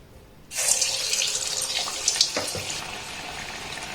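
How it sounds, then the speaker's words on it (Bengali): An aloo chop mixture drops into hot oil and a sudden, loud sizzle erupts, then holds a steady bright crackle with a few sharper pops. "এবার এইভাবে একটা মিশ্রণ আমি দিয়ে দেব তেলের মধ্যে।"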